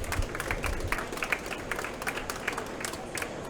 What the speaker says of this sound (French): Un grand merci à vous, on peut vous applaudir.